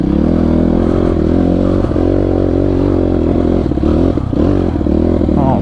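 A dirt bike engine drones and labors close by while riding up a mountain hill, with shifting revs and clattering, scraping bits over the steady motor, and no talk.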